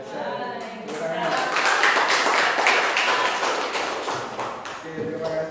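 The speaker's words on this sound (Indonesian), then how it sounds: "Luar biasa. Tepuk tangan." A class of students gives a burst of applause in a classroom. Scattered claps rise and fade amid voices and room noise.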